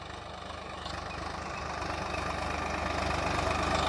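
A tractor engine runs at a steady idle in a field while amaranth is being sown, a continuous, even rumble with a faint rhythmic knock that swells slightly louder.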